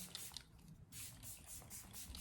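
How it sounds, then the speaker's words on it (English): Morphe Luminous setting spray mists from the bottle in several quick, soft hissing bursts close to the microphone, fairly quiet and with no voices. "It's the Luminous setting spray."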